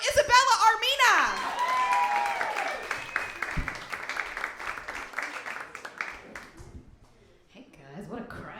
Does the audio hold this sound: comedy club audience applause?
yes